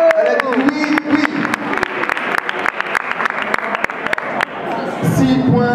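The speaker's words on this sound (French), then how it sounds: "On l'applaudit bien fort." An audience at a quiz game applauds a contestant's correct answer with dense, continuous clapping that fills the clip, while voices talk over it.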